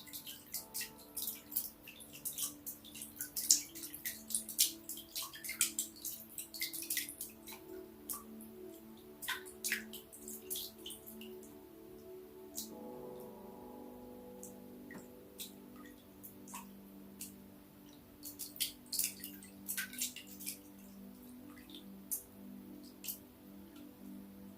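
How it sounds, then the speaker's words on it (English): Water trickles and drips in a quiet space, with soft, irregular ticking drops and a faint running undertone that continue throughout at low volume, with no voices. "Hear the sounds that the water is making."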